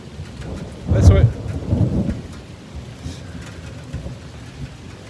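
Thunder rolls through a summer rainstorm on a farm, a deep rumble swelling and fading over a couple of seconds above the steady hiss of falling rain.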